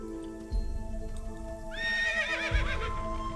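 Horse in the Assassin's Creed video game, set in Jerusalem, neighs with a rising, wavering whinny over game music, while heavy hoof thuds land once early and again near the end.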